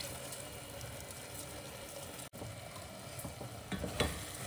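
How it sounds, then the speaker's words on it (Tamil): Soaked basmati rice being gently folded through tomato, ginger and garlic in a pan for coriander pulao, a soft scraping stir over a steady low sizzle, with a brief dropout midway and a few louder scrapes near the end. "அரிசிலாம் உடையாமல் மெதுவாக மிக்ஸ் பண்ணி விடுங்க"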